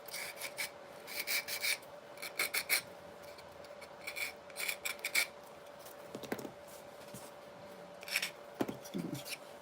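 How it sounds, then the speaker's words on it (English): A real piece of sandpaper rubbed in short back-and-forth strokes, giving raspy scratching bursts over a steady hum, with occasional quiet voice sounds in the background. "We'll use a real piece of sandpaper."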